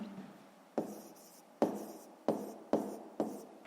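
A pen writes by hand in a notebook during a math exercise, five or six quiet scratching strokes, each starting with a sharp tap and fading, close and soft.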